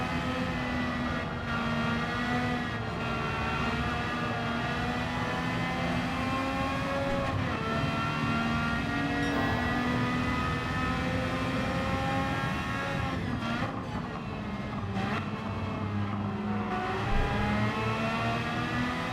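Car engine in Gran Turismo 7 roaring steadily and loudly, with gradual rises and falls in pitch as the car accelerates, eases off and accelerates again, heard alone without any talking.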